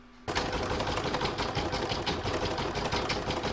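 After a brief quiet start, a sewing machine sews quilting stitches on a Christmas star fabric piece, running fast and steadily with a dense rattling rhythm.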